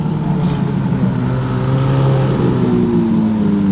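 A twin-turbo Ferrari 458 engine rumbling loud and close with a steady low drone, its pitch slowly shifting as it runs with no talk over it.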